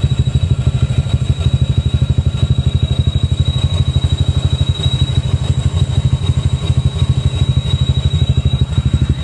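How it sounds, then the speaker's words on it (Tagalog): A Honda Click 125i motorcycle engine with a failing water pump bearing idles up close with a rapid, steady mechanical clatter and a thin high whine running constantly over the top. "Kapag ganyan yung tunog water pump bearing."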